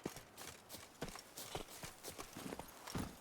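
Horse Roach's hooves clip-clop in a steady walking rhythm in a video game, moderately close, with no talk over them.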